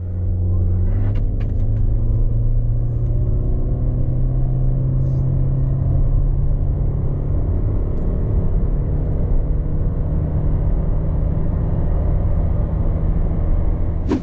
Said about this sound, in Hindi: अब हम आपके लिए इसका 0 to 100 टेस्ट कर लेते हैं कि 0 to 100 कितनी देर में जाती है।